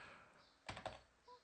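A few quick keystrokes on a computer keyboard while typing a command during a software install, two close clicks then a lighter tap, near and fairly quiet with no talk.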